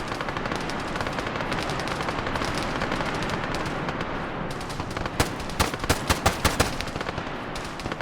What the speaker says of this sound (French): Ça tire plutôt côté droit du bunker.